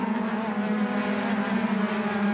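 A race car, the number 90 Autosport machine in a USF Juniors race at CTMP, screams past on track with a loud, steady high-revving engine tone that holds throughout.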